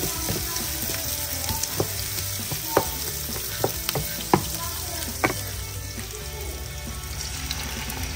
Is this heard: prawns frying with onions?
yes